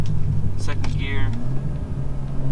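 BMW M235i with Turner MotorSports hotside and coldside charge pipes accelerating hard in second gear in sport mode, a loud steady engine drone and rumble with a rising whoosh, a voice speaking over it.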